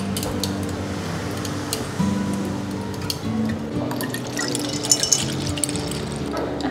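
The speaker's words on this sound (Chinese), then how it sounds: "那我们稍等倒出来的时候会低蒸，让它就是沿着杯壁慢慢倒" Tea poured slowly and low along the inside wall of a cup, a soft, continuous trickle of liquid with faint drips and small clinks, close and alone with no talk.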